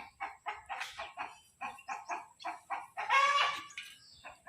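A rooster calls out again and again in short, evenly spaced clucks, then gives one longer, louder squawk. The calls are fairly quiet and clear, with no talk.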